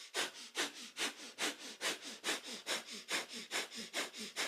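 Rapid kundalini breath of fire in a yoga session, with forceful nasal exhalations pumping in an even, steady rhythm of about four per second, close and alone.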